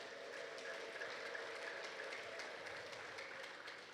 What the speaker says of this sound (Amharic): ስለዚህ መንፈስ ቅዱስ እልልታና ጭብጨባ እንሰጠዋለን